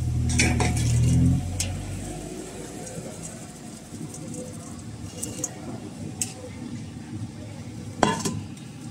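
Tofu challa punugulu frying in oil at a roadside stall in China while spices are stirred in, a low bubbling sizzle under street bustle, with a few metallic clinks and a louder clatter near the end.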